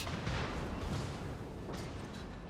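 Main guns of a cruiser in World of Warships firing, a dense rumbling barrage of booming blasts that roll together continuously, with a sharper burst toward the end and no voices.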